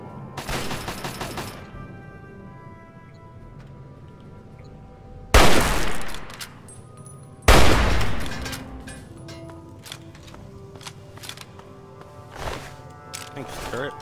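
An automated turret in Fallout 3 fires a short burst, then two loud, sharp bursts of gunfire crack out several seconds apart amid game noise, with a voice talking at times.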